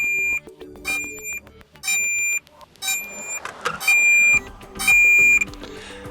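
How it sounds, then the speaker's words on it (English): A DJI Flip drone's locator beeps loudly in a steady pattern, each electronic tone held about half a second with gaps between, close by and piercing, with some clatter underneath. "the drone is going to start producing a sound which will help you to locate"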